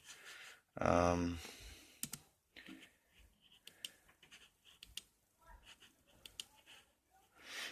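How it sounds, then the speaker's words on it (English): Keys tapping on a computer keyboard, a scattered series of sharp clicks at close range, with a brief loud burst near the start and no talking. "I actually have access to my keyboard now."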